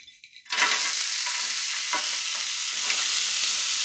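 Frozen hash browns, about half a bag, land on a greased griddle and burst into a loud, steady sizzle after a brief quiet start, with faint scraping touches running through the continuous frying hiss.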